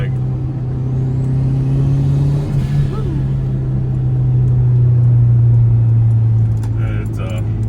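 A turbocharged 1998 Honda CR-V with all-wheel drive cruising, its engine giving a steady low drone that swells as it builds boost, heard from inside the cabin while someone talks over it.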